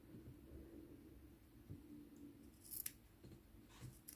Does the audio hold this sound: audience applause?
no